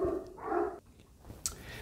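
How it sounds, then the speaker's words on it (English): Dogs barking indoors, a few short faint barks and yips spread over a couple of seconds, heard alone at low volume. "if you hear my dogs barking"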